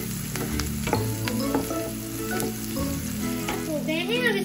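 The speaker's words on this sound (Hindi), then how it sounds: "प्याज को और हरी मिर्च को पकने देते हैं।" Chopped onions and green chillies frying in a pan for a cabbage curry, a constant close crackling sizzle with occasional sharp pops and clinks of a utensil.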